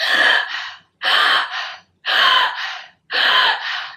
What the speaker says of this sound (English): on each inhale, you kind of want to suck your belly in